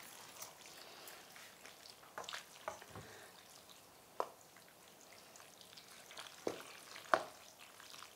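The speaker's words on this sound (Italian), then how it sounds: "Mescola pure." Pasta being stirred with tomato sauce and béchamel in a pot, soft wet squelching and scraping with a few sharper clinks of the utensil against the pot, quiet and close.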